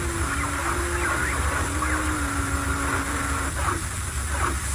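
A swarm of robot dogs on the move gives off a continuous mechanical rumble with whining motor tones that slide and shift, plus faint clicks and servo chirps over the drone.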